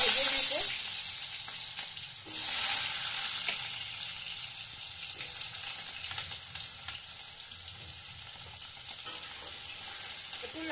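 Potatoes frying in hot oil for a liver chorchori, a continuous crackling sizzle with occasional stirring scrapes and a brief surge of louder spitting early on.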